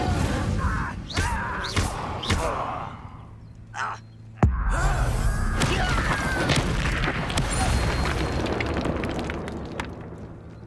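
A fire spell cast in the Hogwarts Legacy video game near an encampment, sharp whooshes and a sudden loud burst followed by a sustained crackling, roaring rush of flame, with brief voice over the opening.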